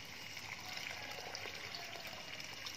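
Water pouring from a spout into a catfish pond, a steady even splashing rush that holds at constant loudness without a break.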